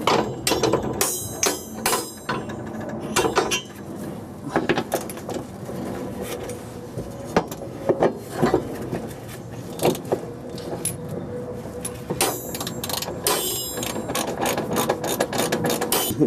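A ratchet tightens a 19mm tow bar bolt on a Nissan NV200, with bursts of rapid metallic clicking between pauses, clanks of tools and loose metal parts, close by and with no speech.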